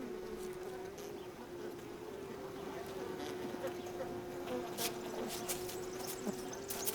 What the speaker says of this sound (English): The wild bees fill the cells with pollen and nectar, then finally lay their eggs inside.